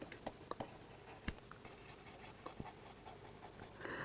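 Quiet scratching and tapping of writing on a board during a lecture, a series of soft irregular strokes and small knocks over a low background.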